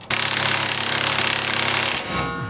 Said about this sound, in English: just use an impact to drive the back of the stud with the splines